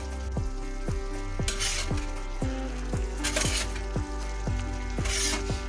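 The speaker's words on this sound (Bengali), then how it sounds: "আলু যোগ করে দিচ্ছি। এখন আমরা মিনিট খানিক ধরে কষাতে থাকবো।" Partly fried potatoes sizzle in a hot kadai for patol posto while a spatula scrapes and stirs them in a quick, regular rhythm, loud and close, with no talking.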